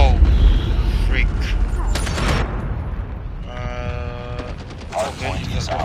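Gunfire in the mobile shooter Call of Duty Mobile: rapid bursts and a mechanical rattling run through loud game noise, with players talking over the shots.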